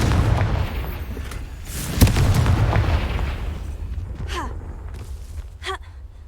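A Confringo blasting spell cast in Hogwarts Legacy sets off a sharp boom at about two seconds. A rumbling blast follows, then dies away, leaving short crackling bursts with no talk.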